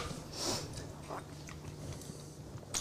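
Someone tastes a spoonful of Cuban surf perch with citrus mojo sauce, a few soft close bites and chewing sounds at low level, quiet and without speech.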